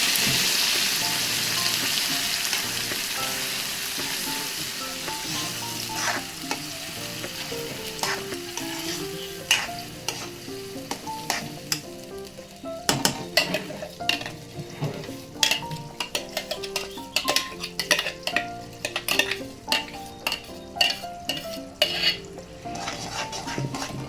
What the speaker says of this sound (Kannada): ಇವಾಗ ಇದನ್ನ ಎಣ್ಣೆಲೆ ಕಸಿಬೇಕು